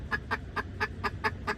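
A chicken inside a car gives a steady run of about seven short clucks, evenly spaced and fairly close, over a low background rumble.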